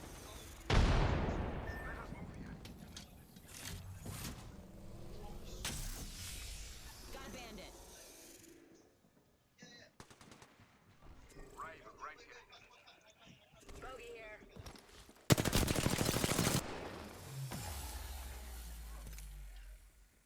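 Grenades explode amid gunfire in a competitive collegiate esports shooter match, with booming blasts and rattling shots scattered throughout and a loud burst near the end, under excited talk.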